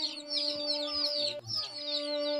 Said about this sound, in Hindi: ये शौक है आपका, ये मुर्गे, ये इनको बंद क्यों किया हुआ है आपने?